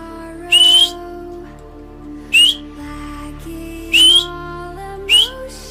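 Four short rising whistles called out to a flying budgie during flight training, evenly spaced and loud, heard alone over a low steady hum.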